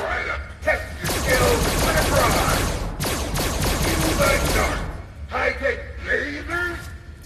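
Rapid bursts of gunfire from a gun in the video game Help Wanted 2, loud rattling volleys over several seconds with a brief break, while a player exclaims loudly throughout.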